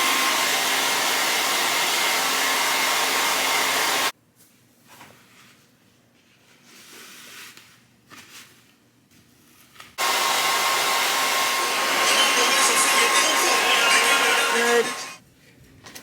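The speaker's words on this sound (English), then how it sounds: "I have a blow dryer right here." A blow dryer drying hair roars loudly for about four seconds, cuts out, then starts again and runs strongly until near the end, with quieter room sounds in the gap.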